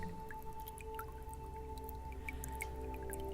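Water drips and trickles over smooth stone inside a cave, with scattered soft drops landing irregularly over a steady low hum, faint and close throughout.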